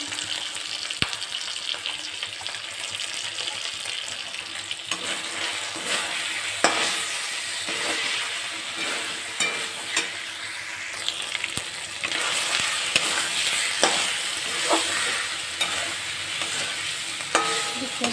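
Red chilli and cumin fry in hot oil for mutton curry, a loud steady sizzle close by, with repeated scraping stirs and clinks through the whole stretch, and no speech.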